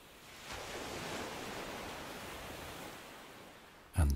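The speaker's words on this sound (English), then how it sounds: "the waves break like small sighs against the sand." Calm ocean waves wash onto a sandy shore in a steady, soft broadband rush that swells and fades gently, with a louder close rustle at the very end.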